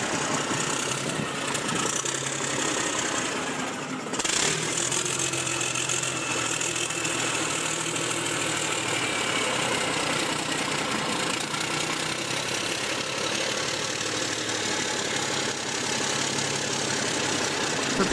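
A Mack E7 diesel truck engine turns over with a brief dip as it catches, then settles into a steady, loud, rough idle with constant knocking vibration throughout.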